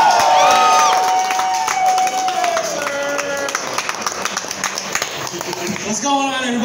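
After a comedian's stand-up set at a small venue, the audience breaks into scattered clapping and cheering, with crowd voices and whoops mixed into the applause.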